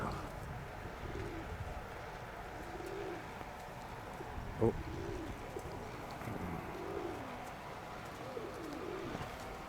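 Soft, repeated cooing of pigeons in a noisy space, low and murmuring, with a steady background rumble throughout.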